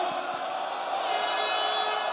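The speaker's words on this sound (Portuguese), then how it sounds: "cadê o grito de guerra?" A crowd at the Campus Party opening event shouts a battle cry together, a loud sustained roar of many voices filling the whole clip.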